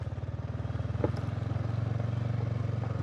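A motorbike rides along with a steady, pulsing engine putter and faint rattling, moderately close, with wind noise around it and no voices.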